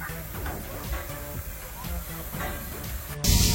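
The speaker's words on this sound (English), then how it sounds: "it's now time to board our train in the form of this steam locomotive" Steam locomotive on the Harz Mountain Railway hissing steadily under people talking, with a sudden louder burst of released steam at the very end.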